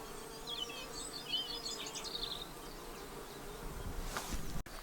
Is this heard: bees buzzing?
yes